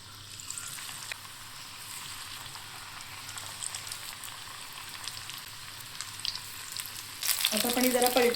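Corn pakoda fritters sizzle steadily in hot oil, a close crackle that runs throughout. A louder burst of bubbling comes near the end as more batter drops into the pan.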